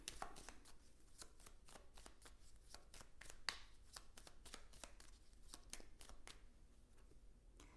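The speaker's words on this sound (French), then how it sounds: "Je vais vous tirer une petite carte." Tarot cards are shuffled and drawn by hand, a quiet close run of soft rhythmic riffles and card slaps, fairly steady with one sharper snap partway through.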